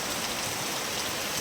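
Heavy rain pouring down steadily after falling since morning, a dense continuous hiss with no break and no voices.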